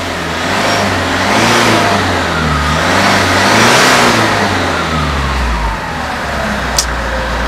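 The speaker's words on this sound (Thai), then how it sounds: "ลองฟังเสียงเครื่องกันดูนะครับผมว่า เครื่องมันจะสุดขนาดไหนนะครับผมบอกเลยว่าคันนี้มีเทอร์โบนะ" A 2019 Mitsubishi Triton 2.4 GT Plus Mega Cab pickup with a stock turbocharged 2.4 engine revs up and down in steady, loud swells, close by, with a turbo whine riding over the engine note and no talk.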